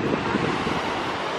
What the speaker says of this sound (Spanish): Hay muchas olas